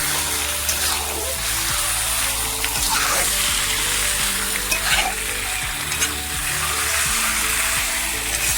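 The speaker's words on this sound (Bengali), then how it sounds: "সুন্দর করে মাংসটাকে কষে নেব।" Spiced duck meat sizzles and fries steadily in a pan, with the scrape and clatter of stirring recurring every second or so, close and loud with no voice over it.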